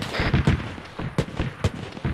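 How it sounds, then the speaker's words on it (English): Cannon fire in a World War II video game set during Operation Market Garden: several sharp booming blasts at irregular intervals, fairly close, with faint noise between them. "That's a cannon fire we're taking."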